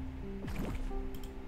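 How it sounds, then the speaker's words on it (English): Water in a video game: a short watery squish and drip with a falling bubbly tone, then a few soft splashy ticks over a steady background hum. "I hear water."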